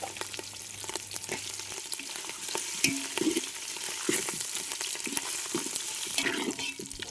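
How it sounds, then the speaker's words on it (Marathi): Mutton fat frying in a little oil over a village wood-fired stove, a close, continuous sizzle and crackle with occasional stirring clatter. "आता यात आपल्याला बाजूला काढलेली चरबी तळून घ्यायची आहे चांगली."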